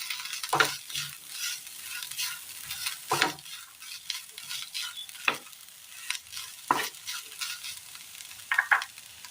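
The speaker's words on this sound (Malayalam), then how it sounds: "ഇതിലേക്ക് നമുക്ക് റോസ്റ്റ് ചെയ്ത് വെച്ചിരിക്കുന്ന ബീട്രൂട്ടും സബോളയും ഇട്ട് കൊടുത്ത് നന്നായി ഒന്ന് മിക്സ് ചെയ്തെടുക്കാം." Roasted beetroot and onion being mixed into a curry, giving a quiet sizzle under repeated spoon scrapes and stirring knocks against the pan, close and uneven, with no talk.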